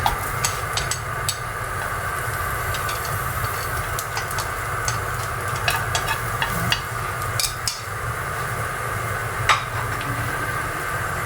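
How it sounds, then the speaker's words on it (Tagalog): Garlic sautéing in oil in a pan, a constant close sizzle with frequent crackles and clicks from stirring, steady and fairly loud, with no voices. "Then, lalagay na natin yung garlic."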